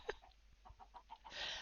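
Chickens cluck faintly in a modded Minecraft game, with a few short, soft clucks spaced unevenly, followed by a brief hiss of background noise at the end.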